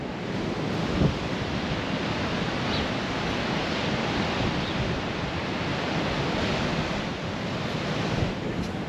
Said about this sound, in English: You want to see the state of these waves